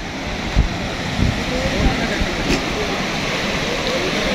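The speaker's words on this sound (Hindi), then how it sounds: "ये आपके सामने पानी की स्पीड बहुत तेज़ है" Fast-flowing floodwater of the Ravi river rushes in a loud, continuous roar with gusts of wind buffeting the microphone, no voices over it.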